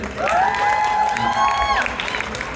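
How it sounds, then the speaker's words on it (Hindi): An indoor audience at a Chicago event claps and cheers loudly for promoter Kashif Khan, a dense burst of applause with a high whoop swelling and fading within a couple of seconds. "जोरदार तालियां काशिफ खान के लिए"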